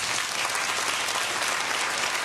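A stand-up comedy audience at a French-language show claps in sustained, dense applause for a show-of-hands vote, steady and loud throughout with no talking.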